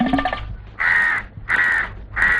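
Three loud, close crow caws ring out at an even pace, each long and harsh, following a short burst of music at the start.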